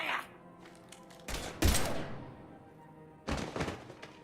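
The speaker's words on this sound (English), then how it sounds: "Now open fire!" Gunfire in the video game Mass Effect 3: a loud burst of shots near the middle, then another burst near the end, with quieter game sounds between them.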